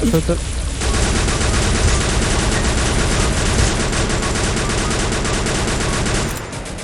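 Loud, dense automatic gunfire rattles almost without pause in the zombie mode of the video game Free Fire, then thins out and stops near the end.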